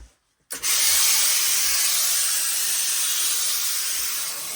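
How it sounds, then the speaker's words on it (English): A steamer hisses against the underside of a blue fur felt Lock & Co fedora, cutting in abruptly after a short silence and then running as a steady, close, broadband rush of steam. "Just be very careful when you're steaming something."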